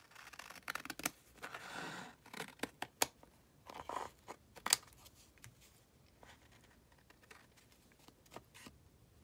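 Scissors cutting through paper, a series of quiet, sharp snips and crisp rustles in short bursts, close and alone in a quiet room.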